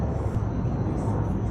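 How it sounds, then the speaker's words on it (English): An airplane flying by gives a steady, dense low roar that fills the short moment, with faint talk under it. "You can see a plane flying by down here."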